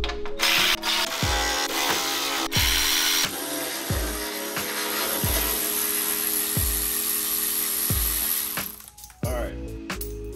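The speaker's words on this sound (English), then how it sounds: "removing two bolts here and then a total of six bolts across the front" A power tool ratchets out 8 mm bolts across the front of a 2015-2023 Ford Mustang EcoBoost, buzzing in short repeated bursts with clicking between them, loud and close under a steady background hiss.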